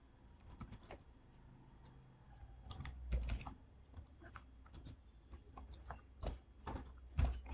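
Typing on a computer keyboard while writing HTML, irregular bursts of close, quiet key taps with pauses between runs of strokes, no voice.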